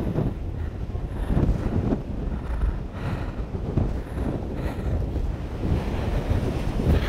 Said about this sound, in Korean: 자, 굉장한 날씨입니다. 아, 강풍. 아, 무시무시합니다, 지금.